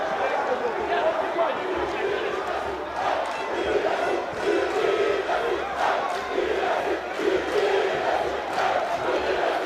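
Excited crowd roaring at a boxing fight night in Bukom Boxing Arena, a dense, steady wall of cheering and shouting with a commentator talking over it throughout.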